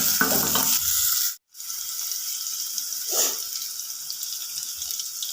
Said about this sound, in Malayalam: സവാള വഴന്ന് വന്നിട്ടുണ്ട് അതിലേക്ക് തക്കാളിയും ചേർക്കാം തക്കാളിയും ഒന്ന് വഴന്ന് വരട്ടെ